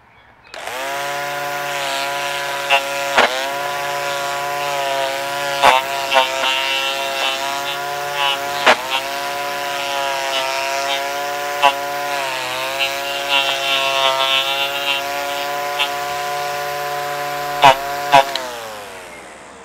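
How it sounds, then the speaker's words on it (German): An Einhell GE-CT 18 Li cordless grass trimmer cuts along lawn edges, running close with a steady whining motor hum, its pitch dipping slightly at times, with occasional sharp ticks from the line striking. "jetzt lasst uns mal den Rasen an den Kanten schneiden, wo der Rasenmäher nicht hinkommt"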